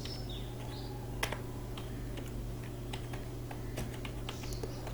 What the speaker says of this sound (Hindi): और उसके बाद पर्सन का जो नाम है वो टाइप कर लेते हैं।